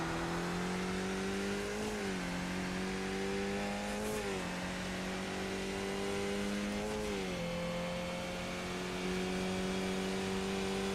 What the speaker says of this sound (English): Starting a Mazda Miata.